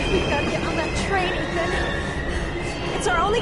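A train in the game Heavy Rain gives a steady, loud rumbling roar with sustained grinding rail noise throughout, while voices talk urgently over it.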